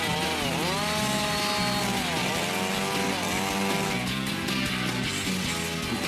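A chainsaw runs loud and close on a construction site the whole time, its engine pitch revving up and dropping back in repeated surges.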